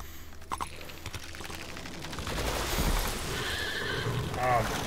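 A horse whinnies near the end amid hoofbeats and scattered bangs, with a faint voice early on, all game audio from Assassin's Creed Valhalla.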